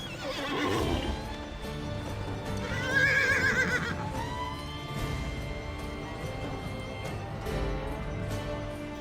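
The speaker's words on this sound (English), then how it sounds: "spooking my horse through the barrier" A horse in the 2005 western video game GUN gives a loud whinny over clip-clopping hooves and game ambience, with further snorts and hoof sounds following.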